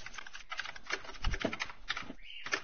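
Fast computer keyboard typing during Fortnite play: dense, quick clicking and clacking keystrokes in irregular bursts, close but fairly soft, with one short pause near the end.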